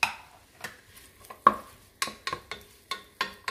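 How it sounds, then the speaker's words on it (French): Onion sautéing in a cooking pot while a utensil stirs it, sharp scraping knocks against the pot at irregular intervals over a soft background sizzle. "Je vais d'abord faire revenir un petit peu mon oignon"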